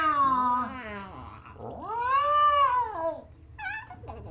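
A cat meows in a long, drawn-out, wavering caterwaul, several rising and falling cries close to the microphone over a low steady hum.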